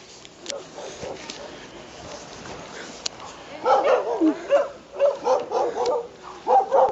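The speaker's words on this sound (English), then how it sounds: "he puts the dog back in the patrol car" A police dog inside a patrol car barking and yipping in a rapid run of loud, close barks with whimpers in between, after a quieter stretch of background noise and some talk.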